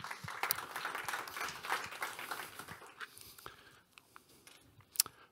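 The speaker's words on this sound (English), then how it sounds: "So please welcome with an applause on stage, Olle Johansson." A conference audience applauds a speaker coming on stage, dense clapping that thins out after a few seconds into scattered claps, with a sharp final clap near the end.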